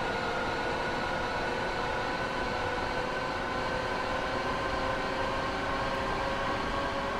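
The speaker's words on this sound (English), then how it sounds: "Definitely a long train." A long Long Island Railroad commuter train running in Train Sim World 2020, a loud continuous rumble with steady tonal whine and dense rolling noise, unbroken throughout.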